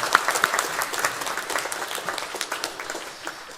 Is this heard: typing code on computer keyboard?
no